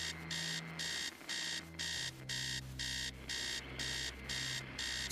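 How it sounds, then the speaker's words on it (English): Alarm clock blaring from upstairs in an indie horror video game, a repeating electronic beep in steady bursts about twice a second, loud and continuous over a low ambient drone. "Upstairs, the sound of an alarm clock blaring."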